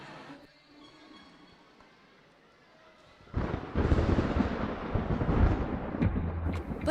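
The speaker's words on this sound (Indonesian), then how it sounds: "Petir adalah salah satu fenomena alam yang biasanya muncul bersamaan dengan hujan." Thunder begins with a faint low murmur, then breaks into a sudden loud, deep rumble that rolls on heavily without letup.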